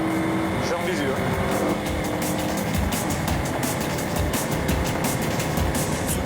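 Renault Megane RS gendarmerie car speeding in pursuit of a BMW at over 240 km/h, a steady roaring engine and wind rush inside the cabin, with a short tire-like squeal early on and voices talking over it.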